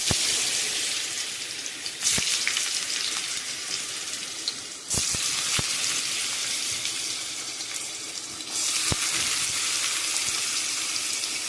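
Steady hiss and sizzle of thick-cut potatoes frying in hot oil with black cumin, broken by a few sharp crackles and pops.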